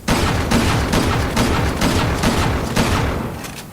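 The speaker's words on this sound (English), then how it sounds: "So you can almost do rapid fire with any weapon using this technique, so watch this" Rapid weapon fire in Resident Evil 6, produced by switching weapons right after each shot, a loud burst of about eight evenly spaced gunshots in quick rhythm that tapers off at the end, no speech.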